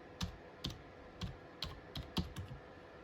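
Keystrokes on a computer keyboard as a church name is entered into a search bar, about eight separate clicks in an uneven rhythm, close and clear against a quiet background with no talking.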